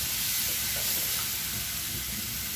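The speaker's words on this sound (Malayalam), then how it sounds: "ഇതിലേക്ക് നമ്മൾ ചതച്ച് വെച്ച ഉള്ളി ചേർത്ത് കൊടുക്കാം. ഇതൊന്ന് നന്നായിട്ട് മൂപ്പിച്ചെടുക്കണം." Crushed onion sizzles loudly and continuously in hot oil in a pan, a dense close hiss with faint bubbling crackle and no voices.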